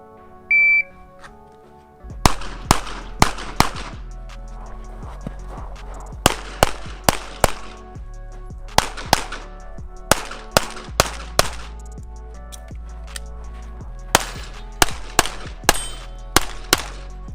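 A 5-inch Smith & Wesson M&P 2.0 pistol fired in a USPSA-style stage, a start beep followed by rapid sharp gunshots in quick strings with brief pauses between bursts, loud and close, plus steel-target clangs.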